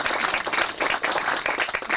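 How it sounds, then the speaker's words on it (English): Sustained round of applause from an audience at a San Ramon ceremony, steady dense clapping from many hands at moderate distance, with no talking over it. "we'll give them a round of applause then"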